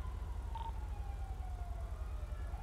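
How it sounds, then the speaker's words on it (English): Police sirens in the GTA 5 video game, a faint distant wail that slowly sweeps downward in pitch over a heavy low engine-like rumble, with no voices. "Sirens are everywhere, by the way."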